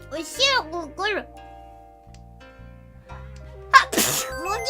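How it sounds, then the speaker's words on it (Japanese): Close, loud sneeze from a streamer playing mahjong, coming near the end after a stretch of spoken talk, a single forceful burst that trails briefly into breath. "くしゃみが出るんだもん。"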